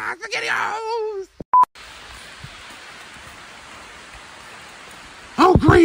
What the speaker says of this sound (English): Oh great! It's starting to rain!